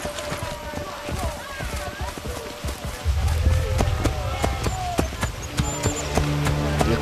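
Horse hooves gallop in Assassin's Creed Brotherhood, a quick repeated thudding beat close by, mixed with game ambience and a speaking voice.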